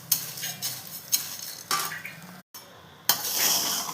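Drumstick leaves are stirred and roasted in an iron kadai, with repeated scraping sweeps of a ladle against the metal pan and a soft dry sizzle, close and rhythmic, with a brief gap.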